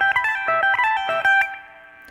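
An electric guitar plays a quick descending lick of five notes, B A G E G, repeated three times, bright and close, ending on a ringing sustained note with no talking.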